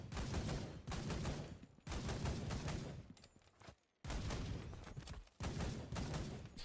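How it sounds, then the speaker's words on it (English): Loud gunfire from a gun in a video game under development: dense, sustained bursts of rapid shots, broken by a few brief pauses, close and dominant throughout. "This gun's so loud."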